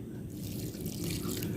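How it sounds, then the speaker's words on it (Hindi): Water poured into a pakora batter of gram flour while preparing pakora kadhi, giving a steady, close trickling and splashing that runs continuously with no talk over it. "अभी इसमें थोड़ा पानी शामिल करेंगे,"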